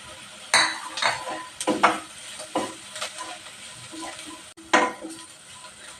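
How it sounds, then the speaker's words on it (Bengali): Chopped onion and grated carrot frying in a pan, with a soft sizzle beneath irregular spoon scrapes and clinks against the pan. "পেঁয়াজটা বেশিক্ষণ ভাজতে হবে না, একটু লাল হলেই হবে।"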